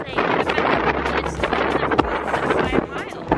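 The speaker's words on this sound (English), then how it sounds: "I'll have you listen to what the wind is like now." Strong wind on the coast of Malta buffets the microphone in a loud, continuous roar with gusty surges throughout.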